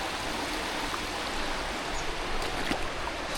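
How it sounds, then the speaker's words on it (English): Shallow creek water flowing steadily, a continuous close rushing wash with faint trickles and no talk. "we're gonna walk up this creek here"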